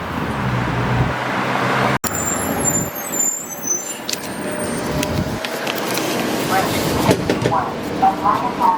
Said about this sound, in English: Here comes our bus, number 61 right there.